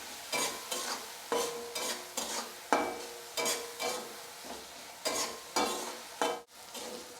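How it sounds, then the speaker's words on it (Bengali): Onions with a little salt frying in a pan for a vegetarian aloo dum, with a steady sizzle broken by regular scrapes of a spoon stirring them around, close and fairly quiet. "পেঁয়াজটা 2 মিনিট ব্রাউন কালার করে ভেজে নেব"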